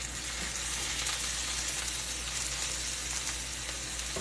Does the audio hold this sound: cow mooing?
no